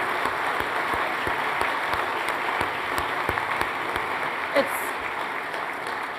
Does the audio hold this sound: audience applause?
yes